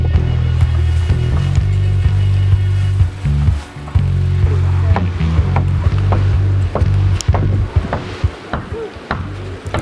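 Boat ride on water in Sierra Leone, a loud, steady low engine drone close by with splashing and knocks of hull against water scattered over it, briefly dipping midway.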